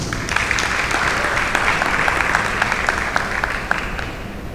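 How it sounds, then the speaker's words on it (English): An audience at a senior awards ceremony breaks into sustained applause, a dense, even wash of claps with a few sharper hand claps standing out. "Y'all give them another round of applause."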